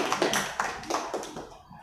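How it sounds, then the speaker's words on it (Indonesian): Students in a group counseling session clap their hands together in a few quick, sharp bursts at close range, then fall quiet. "tepuk tangan dulu, satu lagi"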